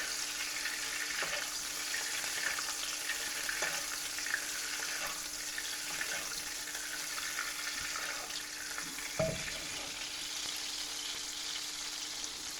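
Loose meat fries on a griddle with a steady, fairly quiet sizzle and occasional soft scrapes and taps, running unbroken with no talking.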